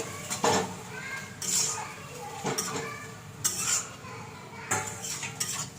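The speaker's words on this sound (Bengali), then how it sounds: "এইভাবে লো ফ্লেমে নাড়তে থাকবো।" A spoon scrapes and clinks against a pan while stirring a sweet, sour and spicy elephant apple (chalta) pickle mixture over a low flame, in repeated rhythmic strokes close by.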